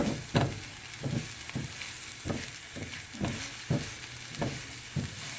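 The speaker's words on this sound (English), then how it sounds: "so we got our onion in the pan, so we're just gonna saute that a little bit" Onion sautéing in a pan for party wings, a steady close sizzle broken by about ten rhythmic stirring scrapes and knocks, with no talking.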